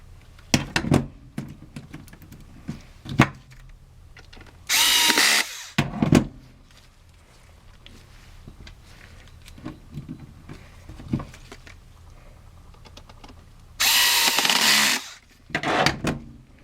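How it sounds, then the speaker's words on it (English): A power screwdriver drives screws into an HP CB540A-series toner cartridge during a refill, in two short whirring bursts several seconds apart, with light plastic handling clicks and taps between them and no talking. "Now I'm just going to add the screws to it."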